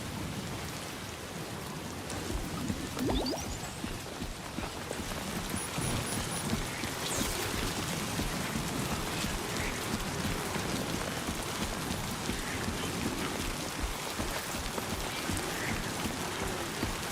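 Steady timefall rain in Death Stranding 2 pours on surfaces throughout, a dense, even hiss with scattered droplet patter and a faint distant rumble, no talking.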